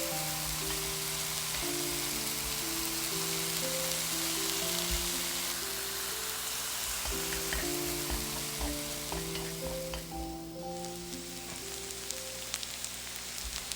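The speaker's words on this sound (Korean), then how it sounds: "소고기를 볶았던 팬에 기름을 조금 넣고 다진 대파와 마늘을 볶아 향을 낸 뒤" Chopped green onion and garlic stir-fry in a little oil in a pan previously used to cook beef, giving a steady, dense sizzle throughout with soft background music.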